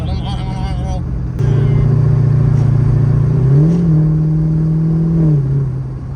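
Rebuilt Corvette engine revving on the road, a loud steady drone that climbs in pitch, holds, then drops back, close and continuous under people talking.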